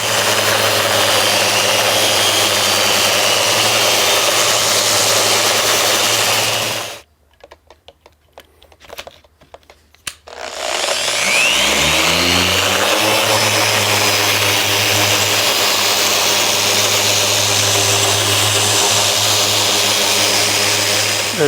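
A power sander runs loudly and steadily against a live edge wood slab, its motor whirring as it grinds the surface, cutting out for a few seconds before spinning back up and continuing, with no one talking.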